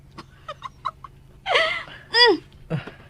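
A chicken clucks a few times, then gives two louder squawking calls, close and clear, with short pauses between the sounds and no talking.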